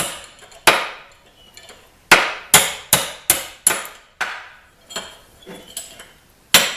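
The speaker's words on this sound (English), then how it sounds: "while holding the punch in one hand, I drop the pliers and tap on the punch" A hammer taps a steel punch to drive a shaft out of a fireplace damper part held in a vise: sharp, ringing metallic strikes, a few spaced blows, then a quick run of taps and more scattered hits, close and loud.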